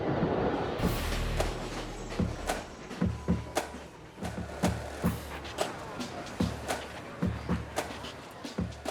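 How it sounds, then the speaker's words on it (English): An express Paris Metro train runs at speed, a low rumble with regular rhythmic clacks of wheels over rail joints, loud and close, with a heavier surge early on. "Trains cover this first 20-kilometer section at an average of over 60 miles an hour."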